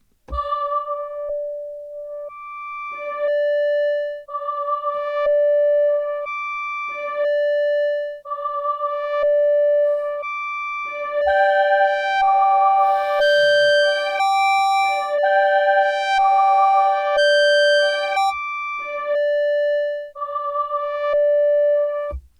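A Korg Wavestate synthesizer plays notes in a steady pattern alternating long and short durations, clean electronic tones that later layer into a richer, higher melody.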